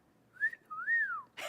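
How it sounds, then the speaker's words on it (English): A person whistles two rising-and-falling notes, the second longer and sliding down, close and clear in a quiet room, followed by a brief burst of noise. "That was risky because I don't always whistle well."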